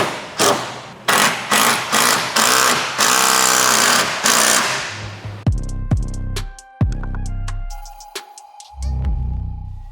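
Power tool driving bolts on a bed stiffener of a 2024 fourth-generation Toyota Tacoma, loud close bursts of rapid hammering impacts in repeated pulses, then clanks and handling thuds as the tool stops and settles.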